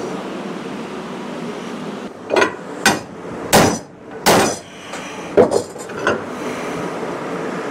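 Hammer blows on a metal breakaway part for a Frontier DM 5060 in a cluttered shop: about seven loud, sharp metallic strikes in an irregular rhythm over a steady background hum, with no talking.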